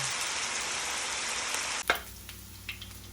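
Pork frying in hot oil in a pan for pancit bihon, a loud steady sizzle that cuts off abruptly with a clunk, followed by a few faint taps and quiet kitchen sounds.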